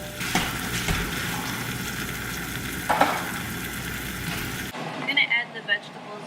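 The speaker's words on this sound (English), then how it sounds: "And then now my little shrimp is cooking." Shrimp frying in a pan with toasted sesame oil: a steady broadband sizzle runs for several seconds beneath a voice, then cuts to quieter kitchen clatter.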